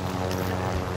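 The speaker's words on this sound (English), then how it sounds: "Helicopter got me." A helicopter in an online battle royale shooter game drones with a steady, close rotor and engine hum throughout, loud and continuous with no voices.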